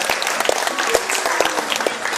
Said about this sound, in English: Let's give Sita a big round of applause.